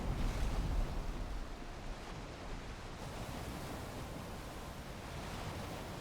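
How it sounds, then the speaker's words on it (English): Ocean waves wash and roar steadily around a boat sailing at sea in the Viking survival game Valheim, with wind noise over a continuous loud surf and no talking. "We are riding the waves this time, huh?"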